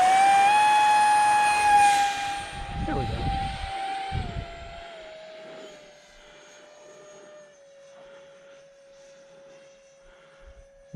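A repaired Arrows Viper RC model jet flies past with a loud, high turbine whine that slides down in pitch and grows fainter as it moves away, while someone talks over it.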